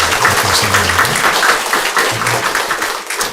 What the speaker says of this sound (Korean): 큰 박수로 환영하고 격려하도록 하겠습니다